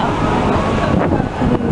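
Steady wind roars and buffets against the microphone outdoors at Epcot, a loud, continuous rumble with no speech.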